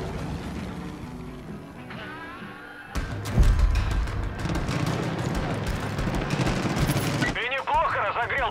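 Rapid bursts of automatic gunfire in the video game Far Cry 5 rattle loudly for several seconds, with voices speaking just before and right after the shooting.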